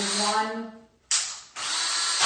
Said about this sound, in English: I'm going to try my old drill